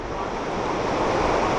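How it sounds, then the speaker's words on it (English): Rough ocean surf and gusty wind at Pohoiki beach form a loud, unbroken roar of breaking water and wind buffeting the microphone, with no voices heard. "The ocean's a little rough and it's windy"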